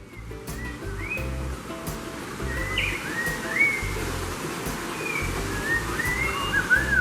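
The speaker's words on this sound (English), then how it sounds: "a jungle-themed room with birds squawking over a really loud speaker system" Shrill bird squawks and calls play over a loud speaker system in a jungle-themed zoo room in Fukuoka, Japan, over a steady wash of rushing water and low rumble, amplified and slightly distorted.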